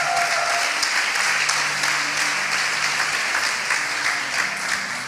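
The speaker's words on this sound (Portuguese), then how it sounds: "Uma salva de palmas para Jesus." Congregation applauding at a church service, a steady dense wash of clapping across the whole stretch with faint voices underneath.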